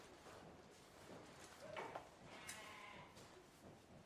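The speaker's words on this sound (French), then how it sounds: "on en a plus ou moins 4000 moutons qui sont là, qu'on a pu entendre au loin, qui crient, qui bêlent" Faint, distant bleats from a large flock of several thousand sheep in an open summer pasture, scattered over a steady outdoor ambience.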